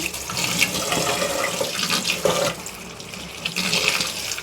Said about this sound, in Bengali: জল ঝরতে কলটা খুলে দিচ্ছি একটু ঠান্ডা জল দিয়ে দিচ্ছি